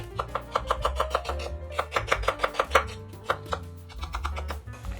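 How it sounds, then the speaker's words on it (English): A knife slices a large onion on a board in quick, steady, close strokes that slow slightly toward the end, with no speech over the cutting. "1 big size onion. Okay, and I will slice it"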